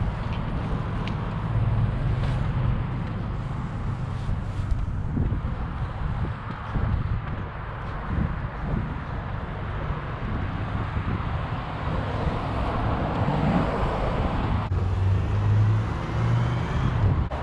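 A KTM 390 Adventure motorcycle riding on forest, asphalt and gravel roads, a steady broadband roar of engine and rushing wind buffeting the helmet microphone, continuous and even throughout with no talk.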